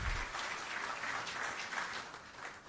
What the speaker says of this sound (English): Shall we please welcome him with a big round of applause?